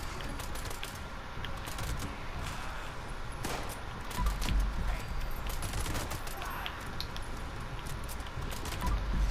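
Rapid bursts of automatic 10mm pistol fire in a video game crack out in clustered volleys. The sharp reports repeat across the stretch at moderate loudness over a background hiss.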